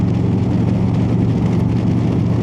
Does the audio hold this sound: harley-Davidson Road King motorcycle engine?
yes